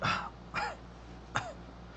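Three short, raspy coughs or throat-clearing bursts, spaced apart, each with a slight vocal edge as if someone is mimicking a cough.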